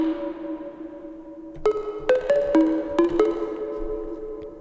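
A Serum synth through a fully wet plate reverb and RC20 plays a few soft, muffled chord stabs over a lingering reverb tail, mellow and lo-fi with the highs rolled off, heard alone.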